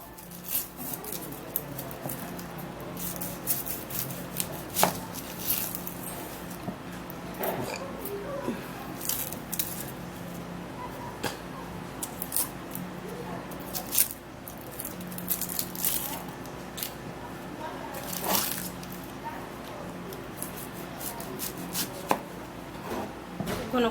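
A knife chops an onion on a board in quick, irregular close taps, repeated dozens of times over a quiet room background, with no speech heard.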